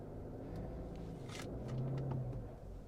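A Subaru car pulls out of a dip on a hill under gas, a steady low engine rumble with a mild rise in revs partway through, close and continuous with no talk.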